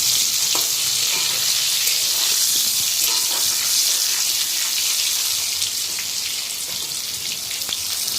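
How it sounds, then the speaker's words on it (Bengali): Potatoes and eggplant frying in hot oil ahead of a hilsa fish curry, a loud, dense, continuous sizzle that stays steady throughout, close up and with no talking. "আলু আর বেগুনটা ভালো করে ভেজে নিচ্ছি"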